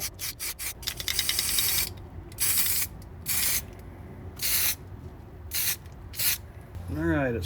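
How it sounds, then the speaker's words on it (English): Weld-through primer hisses from an aerosol can onto the frame rail of a 1967 Mustang convertible, in a rapid flurry of short bursts followed by about five longer, evenly spaced sprays, close and loud. "I'm going to put some weld-through primer over top of that"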